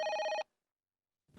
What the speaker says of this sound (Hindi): दिल्ली से फोन आया।